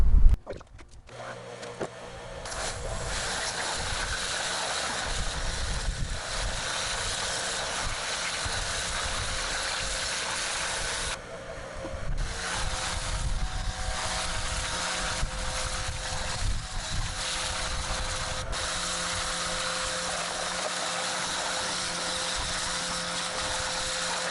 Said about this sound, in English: let's get out the pressure washer